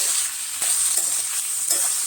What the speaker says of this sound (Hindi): तो एक पैन में मैंने ऑयल डाला था और जो वेजिटेबल्स कट कर ली थी वो इसमें हम डाल देंगे। तो इसको हम क्विक फ्राई करेंगे।